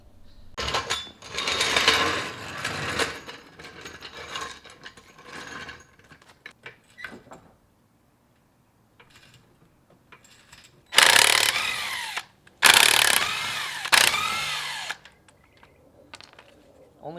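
Tools work on a BMW E36 car wheel with bursts of loud rattling, buzzing mechanical noise like an impact wrench, separated by quieter clinks and pauses, with two strong bursts near the end.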